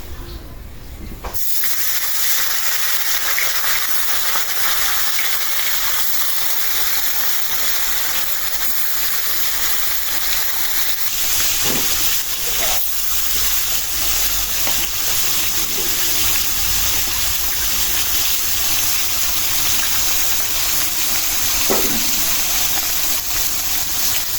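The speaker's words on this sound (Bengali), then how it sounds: "তেলটাও গরম হয়ে গেছে মাছ দিয়ে দিই" A sudden loud sizzle starts as spice-coated fish goes into hot oil and settles into a constant hissing fry, with a few faint utensil knocks along the way.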